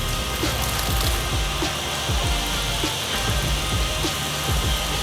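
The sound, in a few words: water sprayed on car simulating rain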